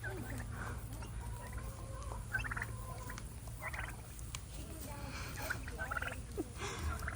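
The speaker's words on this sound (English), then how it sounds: "Them's turkeys." Turkeys gobble in bursts, a few calls rising and falling over a steady low hum, with some background chatter.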